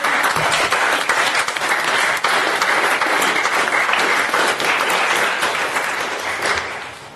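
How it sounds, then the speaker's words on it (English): A round of applause from a crowd at a 2017 general election debate, given for Peter Dunn; loud, continuous clapping that holds steady and then tapers off at the end, with no voices over it. "I truly believe he deserves a quick round of applause"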